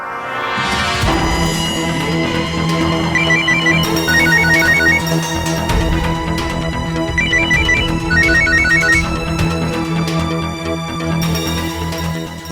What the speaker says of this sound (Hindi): इसका फोन बज रहा है यार।